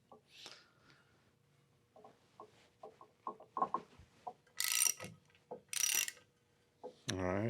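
Jaws of a four-jaw chuck on a lathe being loosened one after another, giving a run of soft ratcheting clicks and metallic knocks, followed by a few louder bright clanks of steel.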